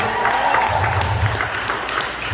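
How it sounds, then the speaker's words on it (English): Audience applause at an open mic event, a short burst of clapping from a small crowd in a room, moderately loud and fairly even throughout. "Round of applause for everybody staying, for everybody."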